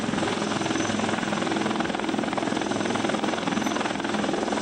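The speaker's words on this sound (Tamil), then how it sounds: "தேசிய பேரிடர் மீட்பு படையினர் ஹெலிகாப்டர் மூலமாக பாதிக்கப்பட்டவர்களை மீட்டுக் கொண்டிருக்கிறார்கள்." A rescue helicopter flies over flooded Udayarpatti in Nellai district, Tamil Nadu, during heavy-rain relief work; its rotor throbs loud and steady throughout, close overhead, with no one talking.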